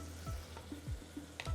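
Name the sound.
sizzling hot Sindhi kadhi in pan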